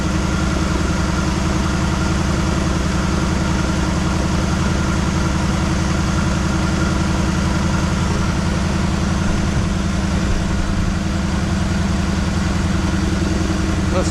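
A 1973 Chevrolet Malibu engine, restarted after sitting 25 years with old gas in the carburetor, runs at a steady loud idle with a low rumbling pulse, unbroken from start to finish and with no talk over it.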